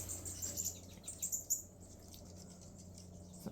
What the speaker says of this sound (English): Excitement in the bird world behind me.